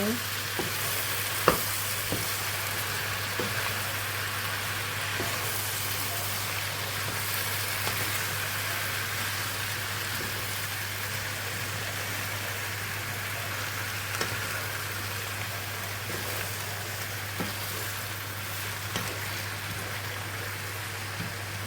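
Chicken pieces frying in a pan for fajitas, a steady sizzle running without a break, with occasional stirring taps over it and a low constant hum underneath.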